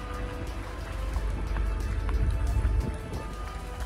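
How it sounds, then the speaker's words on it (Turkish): Rain falls steadily in an outdoor disaster area at a mine site, a dense, even patter of drops on surfaces that continues throughout without speech. "Bölgede yağmur etkili."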